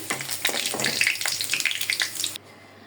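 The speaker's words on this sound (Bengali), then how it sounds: "পেঁয়াজ রসুন দিয়ে দিলাম তেলে" Onion and garlic hit hot oil for lentil dal, a bright crackling sizzle with a few stirring taps that runs steadily for about two seconds and then cuts off abruptly into near silence.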